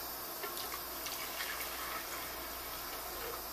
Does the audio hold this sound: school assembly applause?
no